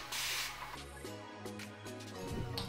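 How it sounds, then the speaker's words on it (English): Hair spray misted onto hair edges, a brief hissing burst at the start, fairly close, followed by background music. "And I go ahead and spray my edges really quick."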